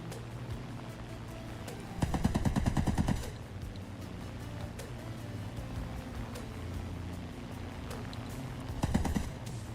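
Aircraft machine guns rattle in War Thunder, a long loud burst around the second and third seconds and a shorter one near the end, with engine drone underneath throughout.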